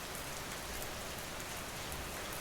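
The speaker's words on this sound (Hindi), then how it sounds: "बारिश अब भी बरस रही है" Steady rain falls in a dense, even hiss with no pauses, constant in level throughout and without any voices.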